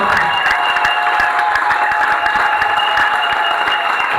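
A crowd at an evangelism campaign bursts into loud, sustained clapping and cheering, dense rapid handclaps running throughout.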